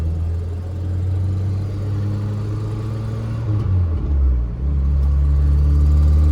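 A manual-transmission car's mid-range engine rumbles steadily, dips briefly as the driver shifts into second, then revs back up under hard throttle, close and continuous with no talk.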